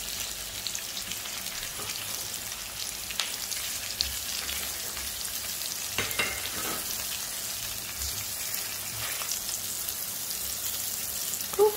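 Mushrooms fry in a pan for Penang-style Yee Mee with dried noodles, giving a steady, close sizzle and crackle that continues without pause, with a few light clinks of stirring.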